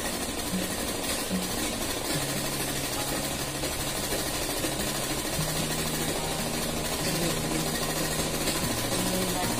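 A sewing machine runs steadily and loudly, stitching elastic into trouser fabric, its motor drone and needle chatter continuous throughout with brief pitch shifts as speed changes.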